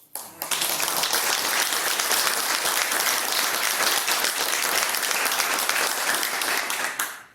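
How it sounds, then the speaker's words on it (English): Sustained applause from a community meeting audience, a loud, even wash of many hands clapping that starts abruptly and holds steady for several seconds before stopping. "if we could just do one more hand of applause"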